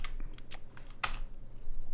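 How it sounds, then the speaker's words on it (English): A few separate keystrokes tap on a computer keyboard, close and crisp, with short gaps between them against quiet room hiss. "If I type hello"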